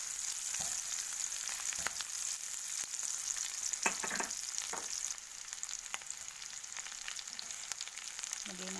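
Shrimp sizzle steadily in a pan with garlic and onion for sweet and spicy garlic shrimp, a soft continuous frying hiss broken by a few faint utensil clinks.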